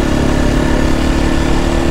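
A motocross motorcycle engine runs loud and close with a steady, rough, throbbing drone throughout.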